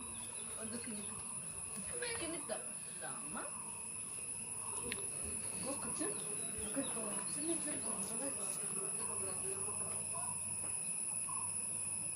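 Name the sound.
birds calling in the Yercaud hills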